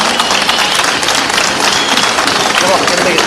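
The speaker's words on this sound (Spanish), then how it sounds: "Un aplauso para ellos." Rally crowd at a Left and Workers Front political gathering breaks into loud, sustained applause, dense clapping filling the space evenly throughout with crowd noise mixed in.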